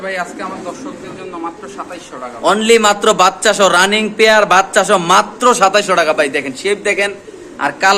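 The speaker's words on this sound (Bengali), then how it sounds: "এখানে আছে দুজোড়া জোড়া কবুতর শাহরামপুরি" Exhibition pigeons of a fancy breed coo at a bird market, with soft throaty calls heard close up beneath someone talking almost continuously over them.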